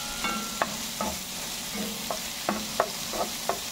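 Garlic added to a pan after onions, frying while being stirred: a steady soft sizzle with intermittent clicks and scrapes of the utensil against the pan, close and without talk.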